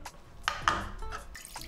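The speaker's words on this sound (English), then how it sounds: "We'll open the can and pour in the chicken broth." Chicken broth is poured from a can into a large stock pot, heard as close, quiet liquid splashing and dripping with a couple of small metallic clinks.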